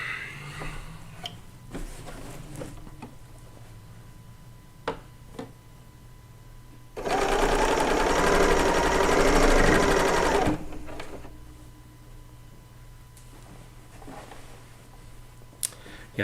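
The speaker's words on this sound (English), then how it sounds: "I do have my needle on this machine stopping in the down position." A serger sewing machine stitches quilt fabric in one loud, steady burst of about three and a half seconds, framed by quieter clicks and handling of the fabric before and after.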